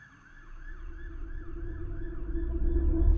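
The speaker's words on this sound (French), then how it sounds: "J'ai dû recommencer cette prise à cause d'une ambulance comme dans les films." An ambulance siren wails in a city street, rising and falling in a steady repeating cycle over low traffic rumble and growing louder as it approaches.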